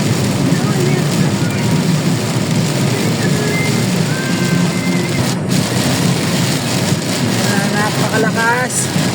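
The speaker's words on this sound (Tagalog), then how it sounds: "Lakas talaga ng ulan." Heavy, steady typhoon rain in Bocaue roars throughout with a dense wash of noise, while faint voices and other background sounds drift underneath.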